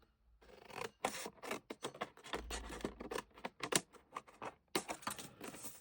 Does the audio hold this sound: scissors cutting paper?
yes